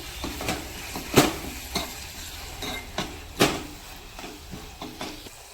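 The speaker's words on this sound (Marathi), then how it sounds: "कांदा पोळलाय तर त्याच्यामध्ये आलं लसूण पेस्ट घेते." Ginger garlic paste stirred into fried onions in a pan for prawn biryani, with soft sizzling and repeated scraping clatter of a spoon against the pan, irregular and close, no talking.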